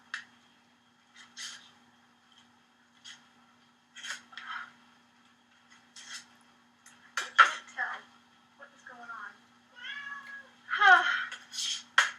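A cat meows several times nearby, short cries spaced between quiet gaps, with a few light clinks of dishes and a person talking.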